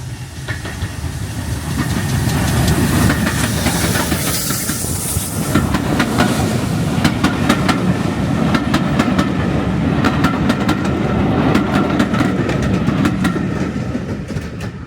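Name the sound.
GWR Manor Class steam locomotive 7812 Earlstoke Manor passing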